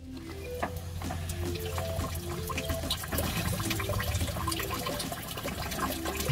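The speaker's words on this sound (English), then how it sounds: "I'm gonna put some water in the system and make sure it's all coming out." Water from a hose runs steadily into the coolant system of a Humvee during a coolant flush, a close, continuous gurgling trickle and splash with no talk.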